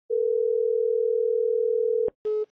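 A steady telephone dial tone sounds for about two seconds during a call, a single clean sustained hum that cuts off abruptly, followed by a brief click and a short tone.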